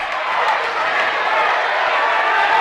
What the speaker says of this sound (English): The tables chants from this great crowd here.